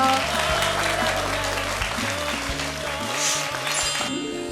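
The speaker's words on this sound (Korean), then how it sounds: "오늘 멋진 강연해주신 송주희 씨께 다시 한번 큰 박수 부탁드릴게요." An audience applauds a young farmer speaker after her lecture at a televised talk event, sustained dense clapping over music-like tonal bed, fairly loud throughout with a brief drop near the end.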